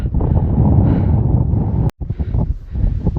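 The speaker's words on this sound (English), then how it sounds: "It's very windy up here" Strong wind on a hilltop buffets the microphone in a steady, heavy roar, cutting out for a split second before gusting back in.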